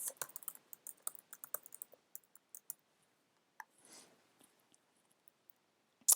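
Email address being typed on a computer keyboard: quick, close, irregular runs of key clicks, then a pause, a soft rustle, a few scattered taps and a final sharp click.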